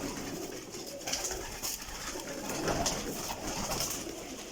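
Pigeons cooing at a rooftop breeding loft, repeated soft throaty coos from several birds close by over a steady background hum, no speech.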